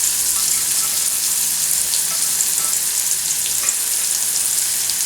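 Onions, green chillies and curry leaves fry in a pan for tomato curry, a steady, loud, hissing sizzle running unbroken throughout with no voices.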